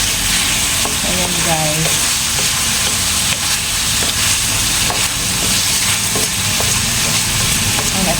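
Chicken frying in a pan for a tomato paste dish, a loud, continuous close sizzle with scraping stirring strokes, and a voice speaking briefly over it.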